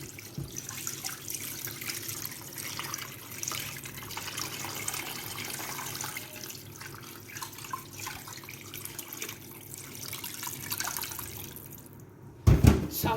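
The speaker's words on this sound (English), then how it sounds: "going to be adding water." Water runs steadily into a cooking pot already holding fish for Nigerian white soup, a continuous close splashing pour that ends with a brief clunk.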